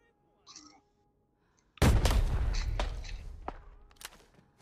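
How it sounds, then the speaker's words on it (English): A grenade blast in the shooter game Arena Breakout: a brief faint sound, then a sudden loud boom that rumbles and decays, punctuated by several sharp gunshots and thumps afterward. "I'm throwing nade."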